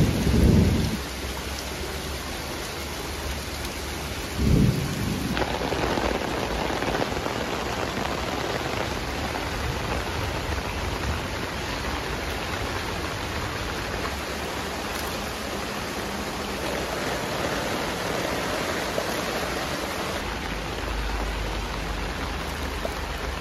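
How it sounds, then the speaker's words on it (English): Heavy rain hammers steadily on a North Face Wawona 6 tent, a dense unbroken roar of drops close on the fabric, with low thunder rumbles near the start and again around five seconds. "here's my heavy rain test."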